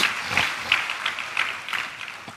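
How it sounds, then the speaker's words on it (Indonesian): A church congregation at a New Year 2024 sermon, applauding. Light, scattered clapping with a loose rhythm runs for a couple of seconds at moderate distance and fairly low volume. "Tepuk tangan paling meriah buat Tuhan Yesus."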